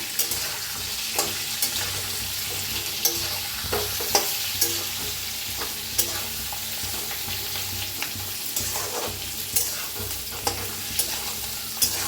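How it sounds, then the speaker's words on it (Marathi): Eggplant pieces frying in hot oil in a pan while being stirred, giving a steady sizzle with regular scraping taps of the spoon throughout, close and fairly loud, with no talking. "आता वांग्यांना नाही तेलात असं भाजून घ्यायचं."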